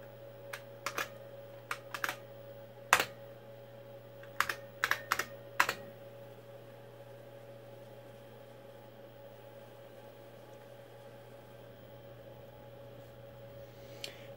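Keys clack on the detachable keyboard of a 1980s portable computer with an Intel 8088, short bursts of crisp keystrokes over a steady electrical hum, then quiet hum alone.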